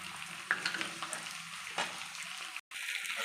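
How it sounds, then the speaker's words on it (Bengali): Fried prawns and pointed gourd are stirred together in a sizzling pan, steady close frying hiss with scraping spatula strokes and scattered clicks, briefly cutting to silence before resuming. "ভেজে রাখা চিংড়িগুলো দিয়ে সবটা একসঙ্গে মিশিয়ে ভালো করে আরেকটু নেড়ে চেড়ে নেব।"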